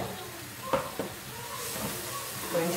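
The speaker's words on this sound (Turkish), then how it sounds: "Soğanlarım da kavruluyor." Onions frying in a pan with a soft, steady sizzle and faint hiss, broken by a couple of brief stirring clinks near the start, heard close and fairly quiet with no talking.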